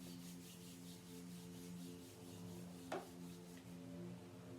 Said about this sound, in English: Bring both hands back together, rub the palms around.